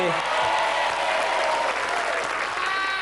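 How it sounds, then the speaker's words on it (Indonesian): A studio audience on a TV game show breaks into loud, sustained applause, a thick wash of clapping that holds steady throughout with a faint voice underneath. "Tepuk tangan untuk Mbak Novi."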